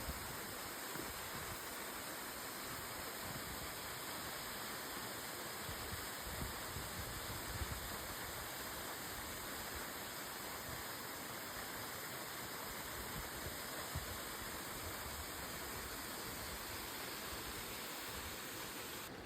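Troll Falls, a waterfall in Kananaskis, roars with a constant, dense rush of falling water that stays steady and loud from start to finish with no talking.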